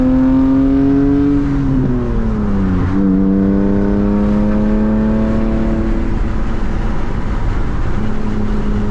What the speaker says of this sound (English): have the windows down and listen to your engine roar